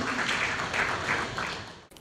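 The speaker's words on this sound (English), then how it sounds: "A bigger round of applause for Mr." An audience at a business forum in Ghana applauds speaker Senyo Hosi with steady, full clapping that fills the room and then cuts off abruptly.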